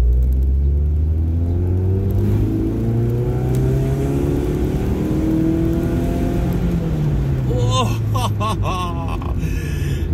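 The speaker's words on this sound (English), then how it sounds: "But listen to this acceleration sound." A 1996 Fiat Punto Cabrio with a 1.6 engine accelerates hard from inside the car, its rumbling engine note climbing steadily through the gears. Brief talk comes in near the end.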